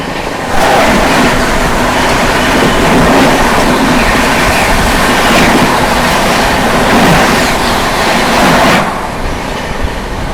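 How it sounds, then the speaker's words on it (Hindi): The 15633 Bikaner Guwahati Express rushes past at night, a loud, continuous roar of wheels and carriages with rhythmic clatter, very close, fading slightly at the end. "सामने से आती 15633 बीकानेर गुवाहाटी एक्सप्रेस।"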